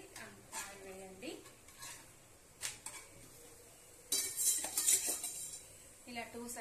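Spinach (thotakoora) chapati cooking in oil on a hot pan, with scraping and clinking of a utensil against the pan, a burst of sizzling midway, and a voice speaking in places.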